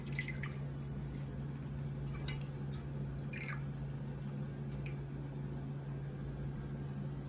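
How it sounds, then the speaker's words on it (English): Hot water draining off soaked rice noodles, a continuous close trickle with scattered drips and wet squishes over a low steady hum, no talking. "So I'm going to now drain the water."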